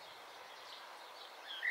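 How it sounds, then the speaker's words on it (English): Early-morning birdsong outdoors in nature, thin and distant chirps over a soft background hush, with one brief brighter call near the end. "It's like someone turns the switch and the birds start singing."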